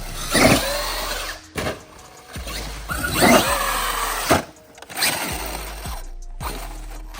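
A Traxxas X-Maxx RC monster truck driving in bursts, its electric motor whining up loudly and cutting out several times, close and without talk.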